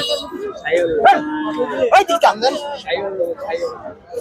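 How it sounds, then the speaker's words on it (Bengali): At a busy calf market, a cow lows once or twice close by amid a jumble of people talking and bargaining. "ভাই এটা কি জাতের গরু দেশি"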